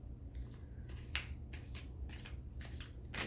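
A deck of tarot cards is shuffled in quick, crisp riffling bursts, close and fairly quiet, repeating irregularly with no talking.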